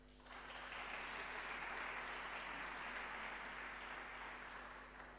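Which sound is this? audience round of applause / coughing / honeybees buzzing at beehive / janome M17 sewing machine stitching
audience round of applause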